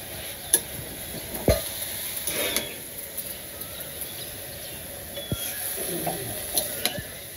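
Leafy greens (shak) with salt frying in a pan, stirred with a few scattered scrapes and clicks over a soft, steady sizzle, close by and fairly quiet.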